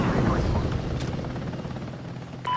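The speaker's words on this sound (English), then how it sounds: "Friendly chopper inbound." In Call of Duty: Ghosts multiplayer on the Factory map, a friendly helicopter arrives with a loud rumbling rotor drone that fades slightly, mixed with game effects and a brief radio voice.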